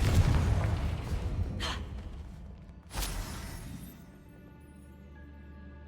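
A Confringo fire-blast spell in Hogwarts Legacy bursts with a loud boom at the start, then a second sharp explosive crack about three seconds in, each trailing into rumbling game ambience.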